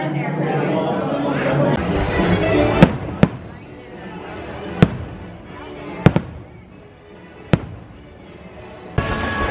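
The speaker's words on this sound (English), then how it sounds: "Oh, fireworks are going off." Fireworks explode in a series of sharp, loud bangs spaced a second or two apart, with crowd chatter and voices underneath.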